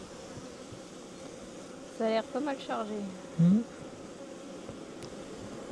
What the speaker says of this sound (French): Donc c'est plein d'abeilles.